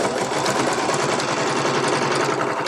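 A Janome 2222 sewing machine stitches through fabric in a fast, steady mechanical whir with rapid needle clatter, close and loud throughout.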